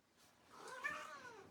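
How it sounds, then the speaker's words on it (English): A domestic cat meows once in a drawn-out, rising and falling call, close and fairly quiet against a still room. "That's my cat."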